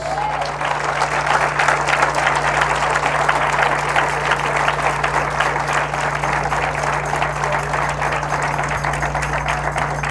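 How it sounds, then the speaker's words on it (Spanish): Church congregation applauding loudly and continuously, a dense steady wash of clapping from many hands that fills the room, with a constant low electrical hum underneath. "Dale un fuerte aplauso a Dios."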